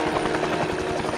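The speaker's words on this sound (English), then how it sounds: "That's why the helicopter is landing outside your hotel." Helicopter rotor chopping steadily and loudly in the 007 Blood Stone video game, a continuous thudding beat over dense turbine whine as it comes in to land outside a hotel, with no voices.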